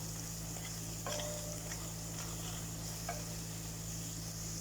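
Food browning in a pan at the start of a macaroni white sauce recipe, a steady low sizzle running throughout with a few soft stirring scrapes and faint utensil touches, no voices.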